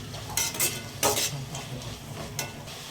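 Mint and coriander leaves being stirred in a pan, a few short bright scraping strokes of a spoon against metal over a quiet background; no talking.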